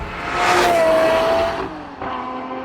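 A Lamborghini Murcielago LP670-4 SV's naturally aspirated V12 revs up close by, a loud, rising rumbling roar that peaks and then drops back to a steady, lower drone.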